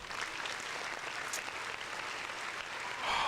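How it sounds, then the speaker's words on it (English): A round of applause rises from a small audience during a podcast taping, a continuous, even wash of clapping at moderate volume that swells slightly near the end. "Yeah, round of applause."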